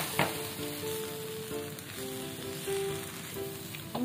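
Carrots with a splash of water sizzle in a frying pan for an Indonesian oseng mawut stir-fry, a steady close hiss and crackle with a few stirring scrapes and no talk.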